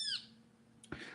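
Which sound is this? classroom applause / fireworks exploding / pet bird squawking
pet bird squawking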